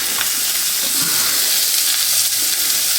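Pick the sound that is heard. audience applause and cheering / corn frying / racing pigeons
corn frying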